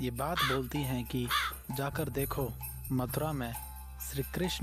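A crow caws repeatedly while someone narrates a Hindi devotional story of Krishna steadily over it, the calls blending with her voice throughout.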